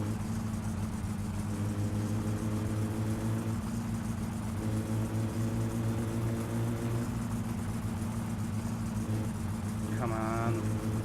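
Continuous mid-pitched drone of a car engine in My Summer Car, steady throughout with slight pitch shifts, a short rising whine near the end, and a voice speaking over it.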